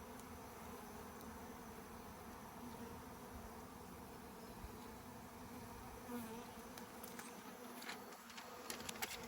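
A honeybee swarm settled in a tree outdoors, a dense, continuous buzz of many bees close by, steady throughout with a few faint knocks and rustles near the end.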